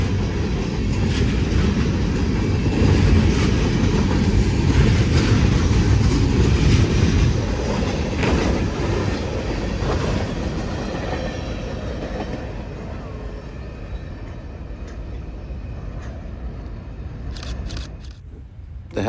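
A CSX freight train of box and tanker cars rolls past in Lakeland, Florida, a loud continuous rumble with clattering wheels that gradually thins and fades as it gathers speed, ending with a few sharp clicks.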